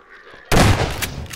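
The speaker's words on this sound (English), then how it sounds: "Let's use a shotgun." A single loud, close shotgun blast in Half-Life 2, sharp onset followed by a short decaying rumble.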